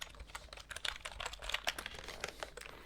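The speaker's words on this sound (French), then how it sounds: "Le clavier, je vous l'avais dit." A computer keyboard is typed on close up in rapid, irregular clicky keystrokes, crisp and fairly quiet, with no voices.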